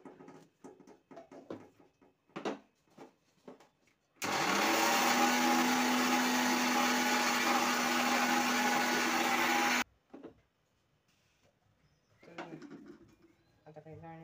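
A mixer grinder grinds coriander seeds into powder, running loud and steady for about five and a half seconds, with faint talk before it starts and after it stops.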